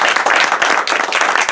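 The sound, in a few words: audience applause at campaign kickoff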